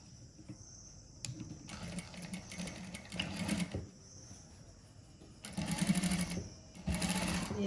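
Sewing machine stitching the side seam of a saree blouse, close and steady, running in several short bursts separated by brief pauses.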